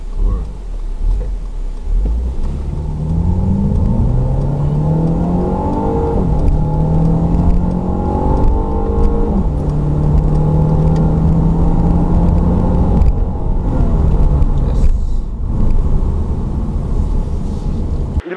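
A 2016 Mercedes-Benz C200 Coupe's inline four-cylinder 2.0 gasoline engine hums steadily and rises in pitch as it accelerates through gears, with a brief lift-off near the end before pulling again.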